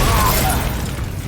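An explosive Confringo blast spell bursts in Hogwarts Legacy, a loud crackling, shattering hit that fills the short moment and slowly trails off amid combat noise.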